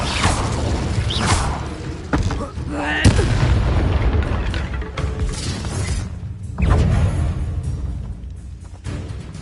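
Confringo and Incendio spell blasts in Hogwarts Legacy erupt in repeated booming, crackling impacts mixed with debris clatter, while a voice calls out spell names between the bursts.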